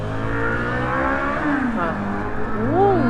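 Engines drone and rise in pitch as vehicles rev and pass nearby on a Tokyo street, a steady loud traffic roar with a CB400 motorcycle's whine sweeping up and down.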